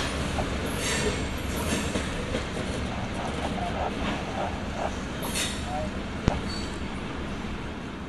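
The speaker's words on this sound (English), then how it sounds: "That transfer train is almost here." A Milwaukee Southern Railway diesel transfer train passes on a line near Elk Valley, milepost 1.8: a steady, broad rumble of rolling cars and wheels holds for eight seconds, with a brief sharp metallic ping near the end.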